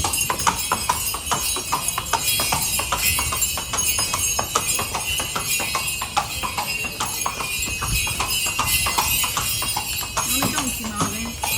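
A horse's hooves clip-clop at a brisk, even trot on a street in the old part of Mijas, Spain, with the rhythm continuing throughout and voices in the background.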